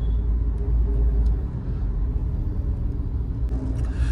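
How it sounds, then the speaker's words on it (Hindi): Jammed road traffic, a dense low rumble of idling and creeping cars and buses, steady and close, with a faint higher hiss and a brief passing sound near the end. "ये देखो यार पूरा का पूरा ट्रैफिक है"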